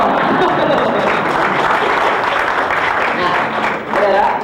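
Audience applause at an Indonesian-language sermon on sorcery and New Age, a dense, steady wash of clapping that holds loud throughout with speech faintly mixed in.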